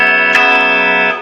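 Electric guitar strummed in a down-then-up pattern, the downstrokes emphasising the thick strings; a sustained ringing chord with a couple of light stroke attacks, close and alone.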